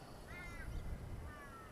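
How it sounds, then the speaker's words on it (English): A kookaburra calls in the background at a cricket ground, two rising harmonic bursts of its cackling call carrying faintly from a distance over steady outdoor ambience. "You can hear the kookaburra going in the background."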